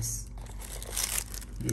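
Plastic and cardboard packaging of a Logitech MX Keys keyboard crinkles and rustles close by in short bursts, with a voice talking over it.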